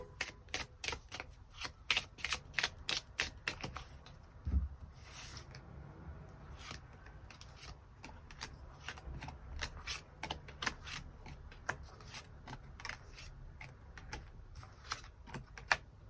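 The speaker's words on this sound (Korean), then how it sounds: "일별로 월요일부터 일요일까지 어떤 하루를 보내게 될지 추가 카드 뽑아보도록 하겠습니다" Tarot cards are drawn and shuffled with quiet, rapid papery flicks and clicks in uneven bursts, heard close up with no talking.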